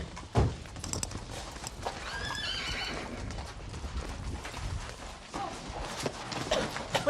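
Horses in a stable whinny and neigh, with hooves clopping and shifting, under general commotion that stays fairly loud the whole time; a voice can be heard briefly in the background.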